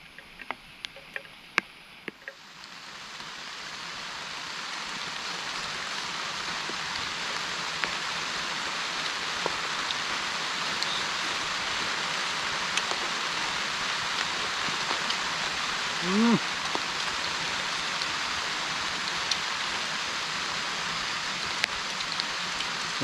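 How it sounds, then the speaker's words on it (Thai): Rain falls steadily in a forest, a broad, even hiss that starts after a couple of quiet seconds and keeps going at moderate loudness. Scattered drips and soft taps sit on top of it, and there is no talking. "ฝนตกแล้ว"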